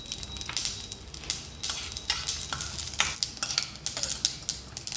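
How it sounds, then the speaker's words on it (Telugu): Flax seeds fry in a pan with a spoonful of oil, crackling and hissing while a spatula scrapes and stirs in quick, uneven strokes up close. "2 కప్స్ ఫ్లాక్స్ సీడ్స్ వేసుకుని ఫ్రై చేసుకోండి"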